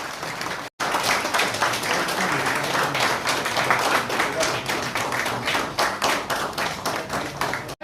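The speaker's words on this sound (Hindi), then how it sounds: "सबको रिक्वेस्ट है कि तालियों का" Steady, loud applause from a crowd at a press conference in Mumbai, continuous clapping for several seconds after a brief pause near the start.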